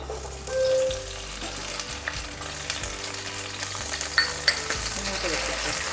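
Green chillies sizzle and fry in hot oil in a pan for an Andhra-style guava chutney, a steady crackling hiss with a low hum beneath and occasional utensil clinks.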